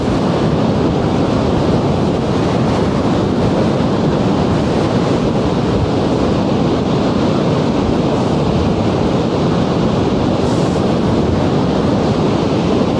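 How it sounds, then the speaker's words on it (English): Continuous loud roar of ocean waves, dense and unbroken, with wind buffeting the microphone throughout. "As I walk towards them, the roar of those waves will get louder and louder and louder."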